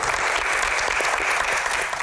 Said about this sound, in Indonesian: Widih, tepuk tangan dulu dong.